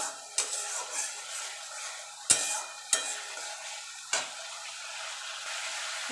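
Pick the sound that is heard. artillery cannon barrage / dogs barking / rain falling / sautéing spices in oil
sautéing spices in oil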